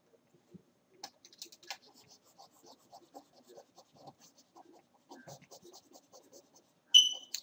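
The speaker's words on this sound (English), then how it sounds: "I should erase this now so you can read it." Chalk or marker scrubbed off a classroom board during a math lesson, a run of soft, rhythmic scratchy swipes close by, ending in a sharper brighter stroke.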